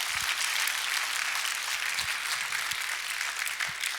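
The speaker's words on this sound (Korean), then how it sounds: "박수를 치려면 화끈하게 치고 말라면 말해야지" A church congregation claps together, a dense, steady round of applause filling the sanctuary with a few louder low thumps throughout.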